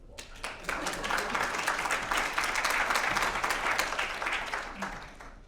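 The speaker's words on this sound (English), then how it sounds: "We can give him a round of applause." An audience at a cannabis cultivation conference claps for a speaker taking the stage, a full burst of applause that rises quickly, holds steady and begins to fade near the end, with some voices mixed in.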